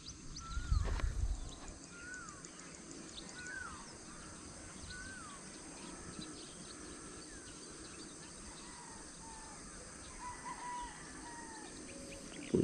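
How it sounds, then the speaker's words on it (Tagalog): Birds call on a rural farm field with scattered short chirps and a few harsher caw-like cries, faint and distant against a steady outdoor hiss. A loud thump opens the sequence. "ibon."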